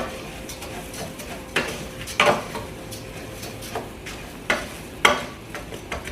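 Rice toasting in a pan is stirred with a utensil, giving a soft steady sizzle broken by several distinct scraping clinks of spoon against the pan, close and moderately quiet.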